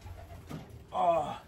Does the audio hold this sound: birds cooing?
yes